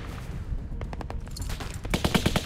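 Rapid automatic rifle gunfire in a prison scene of The Walking Dead: Definitive Edition Season 2, bursts of sharp shots rattling steadily and growing louder toward the end, with no talk over it.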